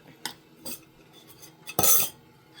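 Chopped banana stirred into puttu rice-flour mix in a metal vessel, heard as a few scattered clinks and scrapes of a spoon against the pot, with one louder scraping clatter near the end.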